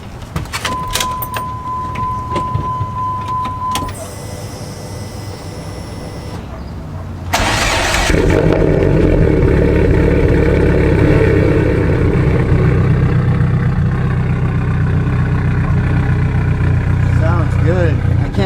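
A Dodge Neon SRT-4 sits near with keys jangling, then its engine cranks and catches at once and settles into a loud, steady idle that runs on.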